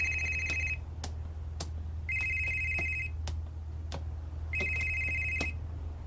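A cellphone rings three times in a steady pattern, each electronic trilling burst lasting under a second with quiet gaps between, over a low constant hum and a few sharp ticks.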